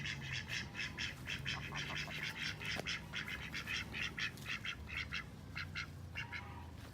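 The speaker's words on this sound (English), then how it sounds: "These are our ducks." A group of ducks quacks in a steady, rapid series of calls, moderately near, over a soft outdoor background.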